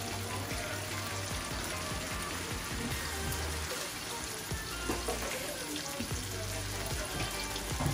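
Minced garlic fries in a pan with a steady, dense crackling sizzle, rain-like and constant throughout, close up with a low hum beneath.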